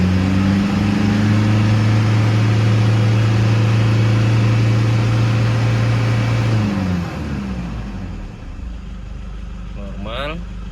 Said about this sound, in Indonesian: kita gas dan kita tahan di 3000 rpm